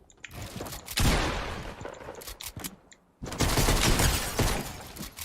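A minigun in Fortnite roars in two long continuous bursts of dense rapid fire, loud and close, broken by a brief pause in the middle.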